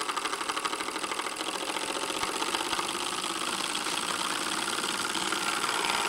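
A small vertical solenoid engine runs fast on 18 volts, a rapid, even mechanical chatter of pulses that stays loud and steady from start to finish.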